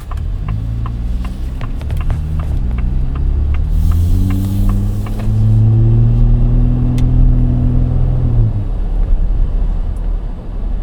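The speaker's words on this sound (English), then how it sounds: "This engine sounds great. Acceleration is great. Super powerful engine." A 2026 Ford Raptor truck engine revs up, its deep rumble climbing steadily in pitch as it accelerates, loud and close with no voices.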